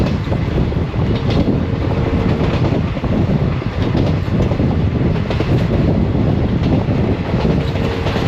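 The 20966 SF Express rolls steadily between Bhavnagar and Botad in Gujarat, a loud continuous rumble and roar of the coaches with faint clickety-clack and wind buffeting throughout, heard from on board.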